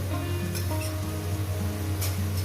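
Ground ginger, garlic and dried and green chili paste hissing in hot oil in a pan as it is added, a steady close sizzle with faint stirring clinks, no talking.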